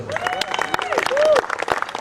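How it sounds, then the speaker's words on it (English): Audience applause with some cheering from a crowd gathered after a charity rally, a brief burst of clapping close by, mixed with talk. "So give yourselves a big round of applause."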